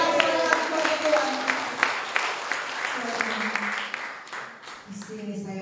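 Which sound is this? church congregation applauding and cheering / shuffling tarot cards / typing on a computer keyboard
church congregation applauding and cheering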